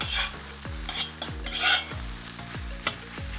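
Onion and carrot fry in a cauldron while a utensil scrapes and stirs them in a regular rhythm of roughly one stroke every half second, over a close, continuous sizzle with no talking.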